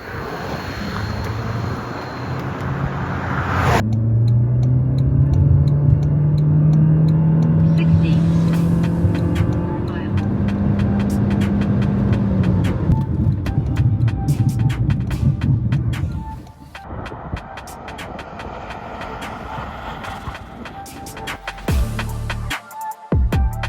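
A 2024 Toyota C-HR accelerates hard in a 0-100 km/h run, a steady rising engine and road drone with wind noise that holds for many seconds before dropping off, loud and close.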